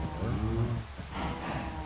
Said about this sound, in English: Oh, it's gonna rain.